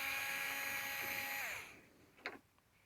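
A power drill whines steadily as screws are backed out of the rear door trim on a second-generation Toyota Prius, then spins down and stops, followed by a brief clack.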